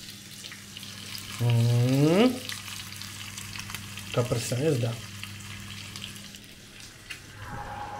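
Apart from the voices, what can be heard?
french fries frying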